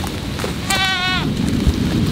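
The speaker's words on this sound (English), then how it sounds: "Come on, goats!" A sheep or goat bleats once on a grass-fed sheep farm, a clear wavering call of about half a second standing out over steady rain-like background noise; no talking.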